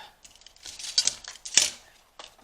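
Scissors snip through paper while a place card is cut out, a few crisp close cuts with small rustles between them, one sharper snip standing out near the end, no talking.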